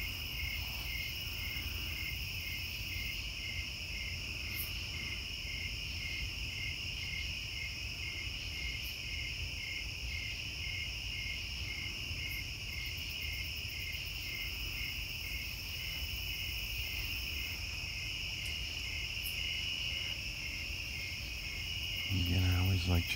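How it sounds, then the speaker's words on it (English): A steady, high-pitched drone of cicadas up in the trees fills the air from start to finish in Ohio, with faint rustling near the end. "Those bug noises are up in the trees. So those are cicadas."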